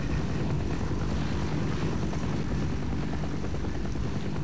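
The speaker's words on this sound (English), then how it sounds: "yes, you can destroy this plane, or this helicopter, whatever it is" A helicopter flying overhead in the Half-Life video game, a loud, continuous whirring rotor and engine roar that holds steady throughout without any talk.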